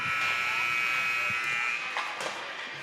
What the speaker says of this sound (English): There's the buzzer, ending pregame skate.